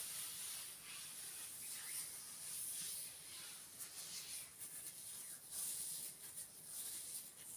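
Velvet and sheer over-the-elbow gloves rubbing together close to the microphone, a soft, faint, continuous airy swishing with gentle swells as the hands move.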